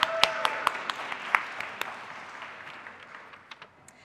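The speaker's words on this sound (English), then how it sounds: "Big round of applause" A summit audience applauds in a light, scattered round: a few sharp individual claps stand out over a soft wash of clapping that thins and fades toward the end.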